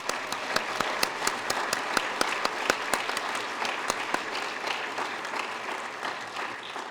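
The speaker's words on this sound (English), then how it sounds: "Please join me in thanking them with a round of applause." An audience at a high school honor society induction ceremony applauds steadily, with distinct individual claps ringing out over a dense, even patter that holds for several seconds at moderate loudness before easing slightly.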